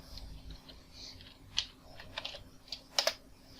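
A few sparse keystrokes on a computer keyboard, faint and irregular, tapped out in a quiet room while building materials in Maya.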